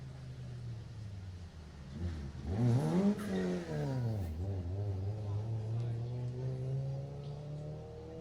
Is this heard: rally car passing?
yes